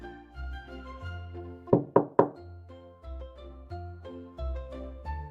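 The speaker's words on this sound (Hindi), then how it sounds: "रात के होते वो फिर एक झोपड़ी पर पहुंची और दस्तक दी।" Three sharp, hollow knocks on a wooden hut door come in quick succession as a storytelling sound effect, loud and close over gentle background music.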